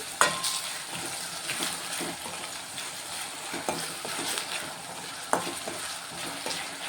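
Salted onions frying in a pan for a fenugreek tomato curry, with a continuous soft sizzle and a few sharp stirring clicks and scrapes scattered throughout, no voices.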